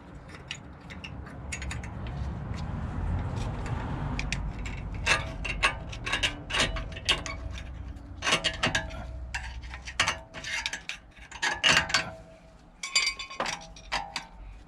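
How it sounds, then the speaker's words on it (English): A metal anti-rattle clip worked onto the front brake caliper of a BMW E53 X5, with close, irregular clinks and metallic snaps in a quiet workshop. "we've just got the anti-rattle clip to go back on the caliper"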